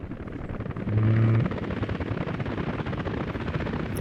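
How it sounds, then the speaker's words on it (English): Helicopters in the city-building game Workers & Resources, a dense low rotor thrum with a brief louder swell near the start, then steady chopping drone with no speech. "It's a whole helicopter armada coming."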